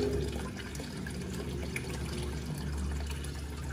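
Water rises and trickles through a ceramic koi pond filter packed with gravel, wool and charcoal, a soft, steady bubbling and gurgling flow heard close but fairly quiet, with no talk.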